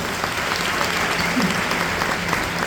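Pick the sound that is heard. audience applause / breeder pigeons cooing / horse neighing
audience applause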